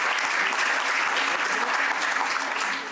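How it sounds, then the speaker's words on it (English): An awards ceremony audience gives the host a round of applause, a dense, even wash of many hands clapping nearby that holds steady for a few seconds before easing slightly. "can we just give our host a nice round of applause?"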